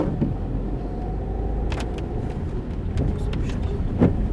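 Car engine rumbling low and steady as a learner driver's car pulls away during a driving lesson, with occasional clicks and faint interior noises over the hum.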